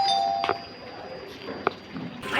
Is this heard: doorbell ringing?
yes